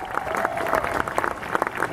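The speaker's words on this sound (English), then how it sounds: "I want to hear a bit of applause for them all." Brief applause from a crowd at a news conference opening a sports complex, a steady patter of many hands clapping at moderate distance, with a voice briefly audible over it.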